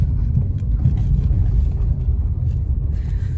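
A car being driven home on a road in France, heard from inside as a steady low engine and road rumble with some wind noise and no talking.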